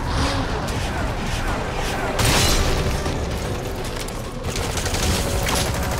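Rapid automatic gunfire from a weapon in Metal Gear Solid 5: The Phantom Pain, dense continuous bursts with booming impacts filling the whole stretch, loud and close.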